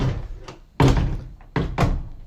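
Closet door forced against another door's handle, producing several heavy thunks and bumps of wood and metal, two loud close impacts after softer knocks, with no voices.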